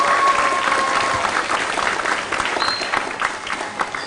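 Audience applause for two professors at an Indonesian talk event, a dense, loud wash of many hands clapping steadily for about four seconds and tapering slightly near the end.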